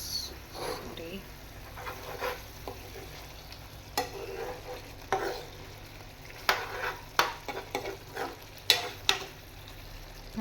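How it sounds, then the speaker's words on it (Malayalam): Chicken roast curry sizzles in hot oil in a pan, a steady soft frying hiss broken by scraping stirs and utensil knocks against the pot, with a person talking over it now and then. "നല്ലോണം തിളച്ച എണ്ണയൊക്കെ തെളിഞ്ഞ് വരുന്നുണ്ട്."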